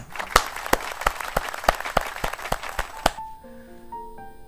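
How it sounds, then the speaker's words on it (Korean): A church congregation claps in a steady, even rhythm during a sermon on a psalm, about a dozen crisp claps at a brisk pace, then the clapping stops and soft sustained keyboard notes take over. "우리가 이 시간에 각자 계신 자리에서 감사와 영광의 박수를 하나님 앞에 올려드렸으면 좋겠습니다."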